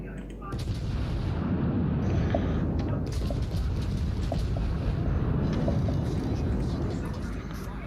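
Warship guns boom repeatedly in the World of Warships naval battle game, dense rumbling artillery fire over a constant roar of engine and sea noise, with a player talking intermittently.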